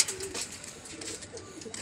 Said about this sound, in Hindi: ये देखिए सियालकोटी कबूतर है